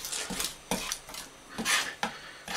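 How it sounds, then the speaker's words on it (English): A knife blade pressed and drawn across garlic with salt on a cutting board, giving a series of sharp scraping, tapping strokes in an irregular rhythm, close and distinct with no talk. "pressuring down on the blade and drawing it towards you with the salt"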